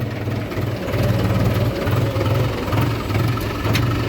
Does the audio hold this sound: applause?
no